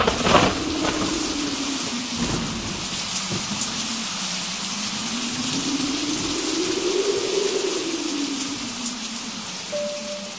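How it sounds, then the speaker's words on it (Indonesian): Heavy rain pours steadily in a dense, continuous hiss, falling outside while heard from indoors, with a faint low rumble beneath and no voices. "Cuaca hari itu sedang diguyur hujan cukup lebat."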